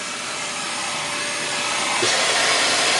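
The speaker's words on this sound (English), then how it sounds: "Just vacuum all that stuff out and see." Vacuum cleaner running inside a Tesla Model X, a steady close whine and hiss that grows louder and rougher as the hose rubs and sucks at debris.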